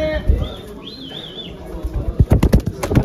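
A burst of rapid pigeon wing flaps near the end as the birds take off at a pigeon auction, following a quieter stretch with faint chirps and some background noise.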